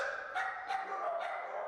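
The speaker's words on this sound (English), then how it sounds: "Dogs barking for your attention, others begging for your love." Dogs at an animal shelter let out three distinct barks in quick succession, moderately loud and slightly reverberant, with no talk over them.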